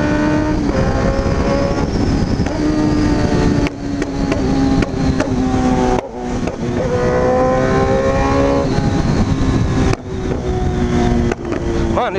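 A Honda Hornet motorcycle with a full aftermarket exhaust, revving loud and close with a harsh, rising and falling engine drone broken by sharp cutoffs and pops as the throttle closes, with no talk over it.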